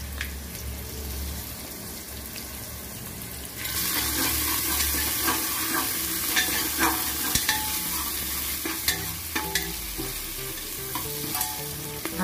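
Ginger garlic paste hits hot oil for a village-style mutton tempering, setting off a loud, steady sizzle and spatter that jumps up partway through, with scattered stirring clinks and scrapes and no talking.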